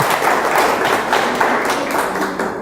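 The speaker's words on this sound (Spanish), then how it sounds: "Un aplauso para el hombre, hombre." An audience at a motivational talk claps in dense, steady applause that fills the whole moment.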